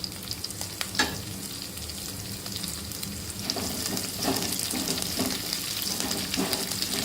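Green chillies and curry leaves frying in a pan, a constant close sizzle and crackle that grows slightly louder midway, with occasional stirring clinks.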